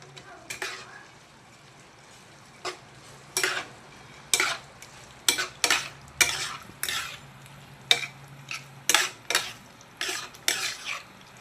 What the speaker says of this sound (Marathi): आणि आपण टाकूया आता पनीर तळलेला पनीर आहे पनीर तळून घेतलेलं आहे